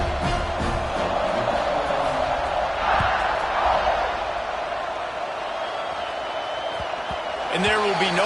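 Stadium crowd noise from a college football video game, Auburn at Alabama, a steady broad rumble of fans during a kickoff, with voices talking over it.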